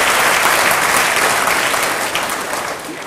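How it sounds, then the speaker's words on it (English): An audience at a talk on EMF radiation and health hazards claps loudly and steadily for a few seconds, and the applause eases off toward the end. "Give her a big clap"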